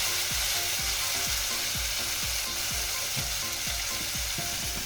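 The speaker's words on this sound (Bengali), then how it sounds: "এবার আমি এই মশলাটা দিয়ে দেবো" Ground spice paste of cumin and ginger sizzles loudly as it fries in hot oil for papaya kofta curry, with steady crackling and a spoon scraping the pan in a regular stirring rhythm.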